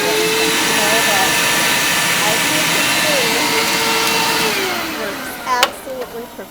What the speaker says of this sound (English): One of the things that I wanted to make sure I proved is that the vacuum cleaner does work.